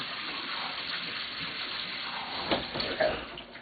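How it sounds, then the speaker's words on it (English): Cold water gushes steadily from a kitchen sink tap, a loud continuous rushing stream with splashes and brief clatters near the end as noodles are drained. "Turn on the sink."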